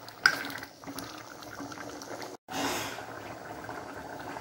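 Black chickpea kulambu bubbling at a steady boil in a pot on the stove, a dense, continuous simmering hiss with a brief break partway through, no voices.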